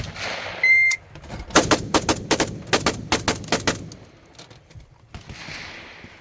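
A Fabryka Broni Beryl 556 rifle fires a quick string of about a dozen sharp shots at a range, grouped in short bursts. A single tone sounds first, and fainter distant shots trail off after the string.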